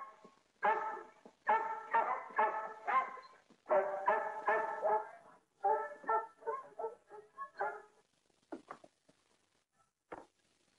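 A dog barks repeatedly in a classic dubbed color television show, a rapid series of close, loud barks in bursts that taper into a few softer, scattered yips toward the end, with no talking over it.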